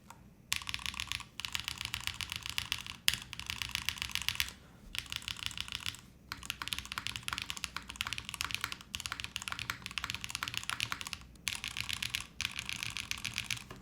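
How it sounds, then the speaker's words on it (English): Fast typing on a Neo65 mechanical keyboard with Eclair switches, GMK keycaps, a cream soda spacebar and an aluminum plate O-ring build, dense clacky keystrokes in bursts separated by brief pauses, close and clear with no talking. "This is eclair switches, and then we have a cream soda on the spacebar."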